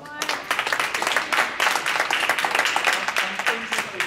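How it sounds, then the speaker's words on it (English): A round of applause at a community race discussion, made up of many hands clapping in a dense, continuous patter that stays fairly loud and steady throughout. "We'll give him a round of applause"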